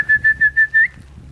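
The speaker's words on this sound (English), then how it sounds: "He usually comes running right away when I whistle for him." A person whistles to call a puppy, giving five quick, bright, evenly spaced whistle notes at close range, with a short rising slide at the end before it falls quiet.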